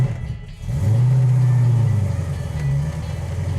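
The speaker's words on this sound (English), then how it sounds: "So far, everything's going real well on our 72 Charger. Seems to be driving around well." A 1972 Charger pulls away inside the cabin, its engine note rising to a steady mid-pitched drone that stays loud and even, then eases slightly.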